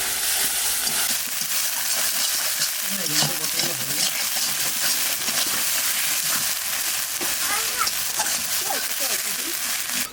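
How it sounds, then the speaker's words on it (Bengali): Ground spice paste fries in hot oil for a Bengali katla fish curry, giving a steady close sizzle with crackles and occasional stirring scrapes. "মশলাটা এখন জল দেবো না, আস্তে আস্তে হালকা আছে ভেজে নেব।"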